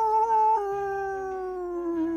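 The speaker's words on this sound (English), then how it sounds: "Is there a dog in my room?" A cartoon dog howls in a long, mournful, sustained cry that slides gradually lower in pitch. It is heard alone, fairly close and clear.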